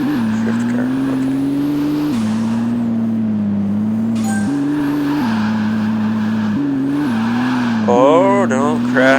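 BMW drift car engine in the Car Mechanic Simulator video game, a loud steady droning rev shifting pitch in steps with tire squeal near the end, while a voice talks over it.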